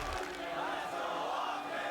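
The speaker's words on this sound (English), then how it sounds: "you guys have been cheering for both these squads really loudly" An esports arena crowd roars and cheers loudly for Breach and OpTic, a dense, sustained wall of voices with no single speaker standing out.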